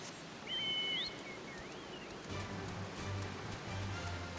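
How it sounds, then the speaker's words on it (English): Rain falling at Camp Drybone in Final Fantasy XIV, a soft, steady patter with a faint whistling bird-like tone early on and a low hum joining partway through. "Oh, it's raining here."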